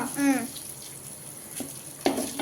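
Onions shallow frying in a pan for Coimbatore-style wedding sambar make a soft, steady hiss throughout, with a couple of brief voice fragments over it.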